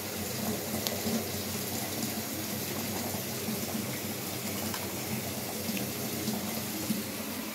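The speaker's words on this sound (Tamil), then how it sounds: "தண்ணி ஓடிட்டுருக்கு, அதான் அப்படி சவுண்டு கேட்குது." Steady running tap water splashing continuously into a sink, a constant hissing flow at moderate volume with no pauses.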